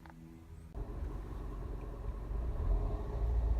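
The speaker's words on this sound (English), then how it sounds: "engine's running through the section of the video" A Honda CR-V 2.0 i-VTEC engine runs as a low, steady rumble heard from inside the car, starting up after a quiet moment and growing a little louder.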